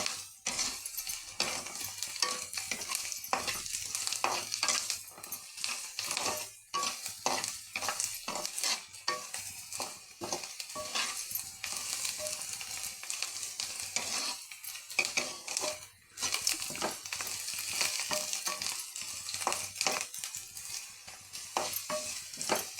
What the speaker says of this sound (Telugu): బాగా ఫ్రై అవ్వాలండి.